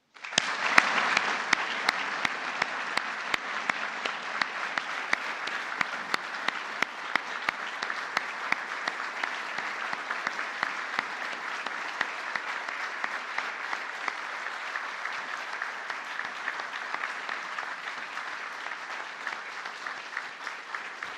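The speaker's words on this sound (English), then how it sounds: "I'd like to give one last round of applause to the recipients of the Medal of Valor." Large audience at a formal ceremony for Public Safety Officer Medal of Valor recipients claps steadily and loudly for about twenty seconds, a dense, sustained wall of applause with no break.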